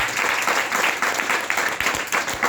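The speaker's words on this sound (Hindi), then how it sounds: "तो दोनों के लिए एक बार जोरदार ताली बजाएंगे।" An audience at a youth meeting breaks into dense, sustained applause, loud and steady throughout with many hands clapping together.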